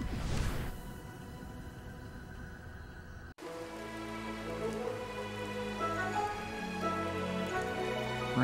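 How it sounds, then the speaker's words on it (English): Steady rain falls in the video game A Hat in Time, a continuous wash of drops with a brief dropout partway through and faint game ambience underneath. "Rains an awful lot here,"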